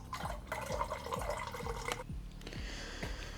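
Coolant drains out of a car engine during a teardown, a steady pouring liquid stream with repeated dripping splashes, close and fairly quiet, with no talking.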